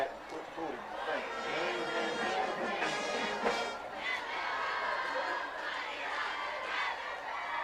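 A high school football crowd at a Bacon County versus Tattnall County game boos a pass interference call, a sustained, fairly distant wash of voices with nearby chatter over it.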